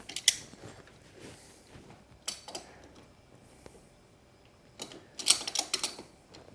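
Plier wrenches pry out a crankshaft oil seal on a KTM/Husky two-stroke engine, giving faint metallic creaks and clicks, scattered across quiet stretches, with a louder cluster of scraping clicks near the end.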